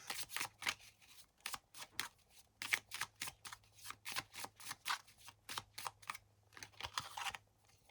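A deck of cards is shuffled repeatedly in quick riffling bursts, crisp and close, with a steady rhythm of short flutters and brief pauses and no voices over it.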